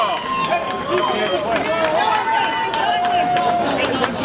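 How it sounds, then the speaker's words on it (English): Applause for the champion of a bowling tournament final, with crowd babble and speech throughout, a dense steady patter of claps in a large room. "Let's have a nice round of applause for Derek Magno."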